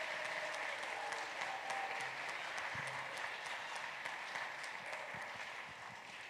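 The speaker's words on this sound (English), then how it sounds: "Can we give one more round of applause for our participants this morning?" A church congregation applauds participants after a Christmas pageant, with steady, moderately distant clapping from many hands throughout and a few isolated louder claps.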